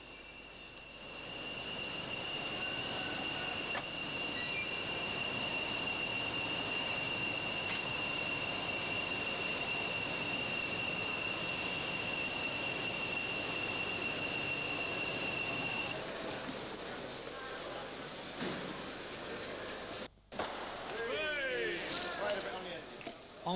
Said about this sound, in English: the first Class 40 ever enters the terminus at Penzance